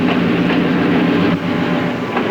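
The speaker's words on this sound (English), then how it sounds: "Slower trains pull into the siding to let faster ones pass." Train on standard gauge track in Australia running past a siding, a loud, steady rumble with rhythmic clickety-clack of wheels over rail joints, close and continuous with no voices.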